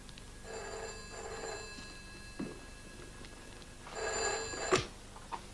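An old-fashioned telephone bell rings in two short bursts, then rings again after a pause, close by in a quiet room.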